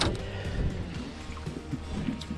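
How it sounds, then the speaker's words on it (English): A canoe glides along a river, with soft paddle strokes dipping and swishing in uneven rhythm and gentle trickling water close by, all fairly quiet with no talking. "All right, paddling on."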